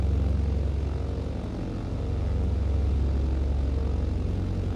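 Britten Norman Islander BN2 propeller engines running at takeoff power in Microsoft Flight Simulator, a loud, steady, droning prop roar with a throbbing low pulse that holds constant throughout.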